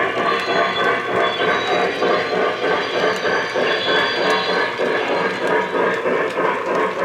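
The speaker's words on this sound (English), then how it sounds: "Really, really nice train set" A Lionel Legacy C&O F-19 Pacific model train clatters steadily along its track, with continuous rattling, ticking mechanical noise and a faint high whine, fairly close and steady throughout.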